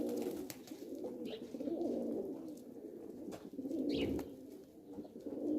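Pigeons, a male and a female, cooing while trying to land, with soft repeated coos and an occasional higher call over a steady low background hum, nearby and fairly faint.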